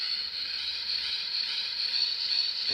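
A Magiranger Grip Phone Morpher toy gives off a continuous electronic hissing tone that stays steady and slowly swells a little louder. It is close, with no talking.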